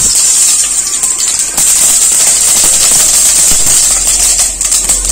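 Mustard seeds pop and sputter in hot coconut oil in a pan, a dense steady crackle with a high sizzling hiss throughout, loud and close.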